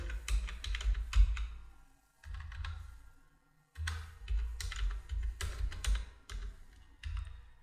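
Keys clack on a computer keyboard while challan details are entered, quick clustered bursts of clicks separated by short pauses, close and fairly quiet with no talk.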